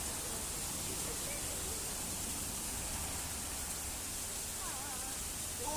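Flash floodwater rushes like a waterfall, a steady broadband roar of pouring water filling the scene without pause, with faint voices now and then beneath it.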